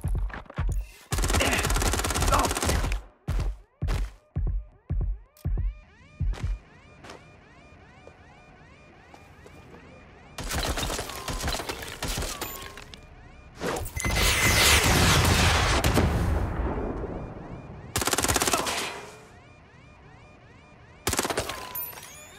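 Gunfire in a Watch Dogs Legion firefight: a rapid string of loud separate shots, then several dense sustained bursts of automatic fire with crashes and booms, broken by short quieter gaps.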